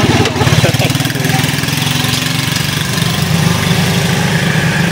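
A motorcycle engine idles steadily up close, a loud, continuous low throbbing with an even rapid pulse and no voices over it.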